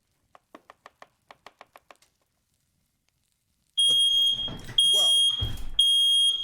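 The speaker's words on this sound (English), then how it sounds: "That was my smoke detector. I think we need to change the battery." A household smoke detector with a low battery gives a burst of rapid sharp beeps, followed by a louder shrill alarm tone sounding in long pulses amid other clatter.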